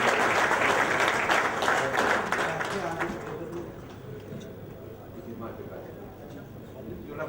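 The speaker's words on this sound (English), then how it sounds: "please give them a generous round of applause, and also Hamza will present the award." An audience applauding at an award presentation during a restaurant opening in Sheffield, a steady crowd clapping that fades after a few seconds as murmured voices continue.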